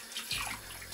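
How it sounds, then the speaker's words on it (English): Running tap water splashes over oxtail being washed in a sink, a brief close gush with a small splash at the end. "wash the oxtail until it is clean, or rid of all the red water"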